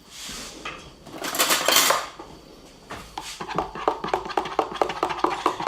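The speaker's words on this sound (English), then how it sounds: "crack the egg, put it in with our milk, butter and yeast and sugar mix. Give that a quick stir." Egg being briskly stirred into a bowl of milk, butter, yeast and sugar for cinnamon roll dough, with rapid rhythmic clinks of a utensil against the bowl after some earlier scraping and rattling of dishes.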